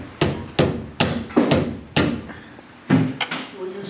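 Hammer blows drive a chisel to strip material from an MG Midget car body: loud, sharp metallic strikes roughly every half second, close up, with a slightly irregular rhythm.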